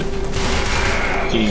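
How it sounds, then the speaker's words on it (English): Akstiletto gun in Warframe firing as a dense burst of rapid shots over a continuous game hum, loud and close. "Now the gun I'm ranking right now is the Akstiletto."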